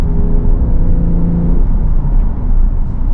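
A 2023 Porsche 911 Targa 4 GTS with a manual transmission rev-matches on a downshift. The engine gives a loud, close, continuous roar whose pitch shifts midway, with no talking over it.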